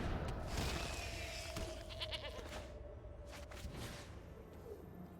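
A goat in the digital card game Magic: The Gathering Arena lets out a short bleat amid dense game sound effects, whooshes and low rumble, moderately loud with no talk.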